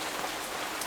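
A brief, even hiss of rain falling, a soft steady patter of drops with no voices over it.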